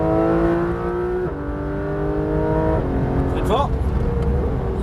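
A Porsche 991 GT3 RS engine at Le Mans Maison Blanche pulls hard from third gear with a rising wail, upshifting twice in quick succession, loud and close from inside the car.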